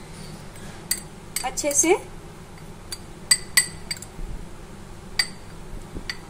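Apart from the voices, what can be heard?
spoon clinking while mixing spices in a bowl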